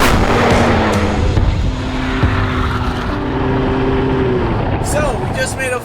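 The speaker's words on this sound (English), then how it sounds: "the first thing you notice is the upgraded exhaust. It has a nice, deeper, throatier tone to it" Hennessey VelociRaptor 400 Bronco with an upgraded exhaust making a full pull down a track, a loud sustained deep engine roar with shifting tones, a voice entering near the end.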